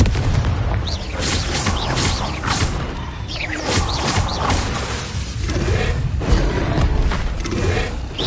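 Loud, repeated blasts of the Confringo spell in Hogwarts Legacy, booming explosions landing in quick succession amid clattering mechanical battle noise, with no speech.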